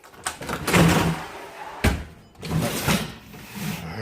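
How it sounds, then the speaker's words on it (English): Heavy oven door swung open on a hot oven while cooking filet mignon and potatoes, two solid thunks with a clunking latch, close and fairly loud, no voices. "Let's open the door."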